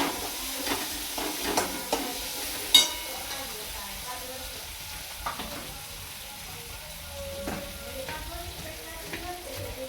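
Tomato fries gently in oil over a low gas flame for a drumstick amti, giving a soft steady sizzle with a few scattered stirring taps and clinks.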